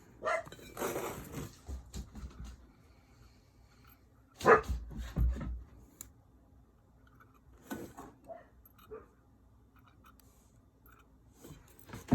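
Dogs at home barking in short bursts, some yips and whimpers mixed in, at moderate distance with quiet gaps between the outbursts and no talking.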